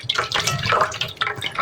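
Salted vegetables for a Filipino side dish, eggplant or bitter melon, rinsed under a running tap, water splashing and trickling steadily at close range with small irregular bursts, no talk.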